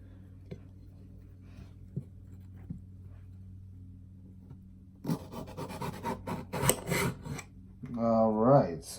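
A knife cutting a cantaloupe, with soft rhythmic rasps and taps at first, then louder crunching and scraping strokes near the microphone, with a voice speaking briefly at the end.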